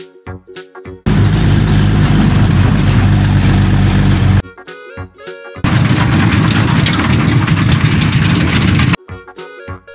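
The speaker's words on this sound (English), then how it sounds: "Mixer truck." A large cement mixer truck engine roars in two loud, steady stretches separated by short gaps of clattering and knocking.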